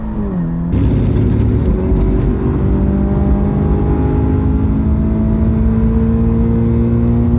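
A race car on a coilover-equipped setup blasts down a racetrack's main straight, its engine droning loud and close from the cockpit with a rising pitch as it accelerates and holds speed, and no voices over it.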